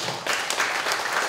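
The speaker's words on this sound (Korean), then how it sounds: "우리 선생님께 박수 부탁드리겠습니다" A lecture audience in Siheung applauds the instructors, brief dense clapping at close range with no talk over it.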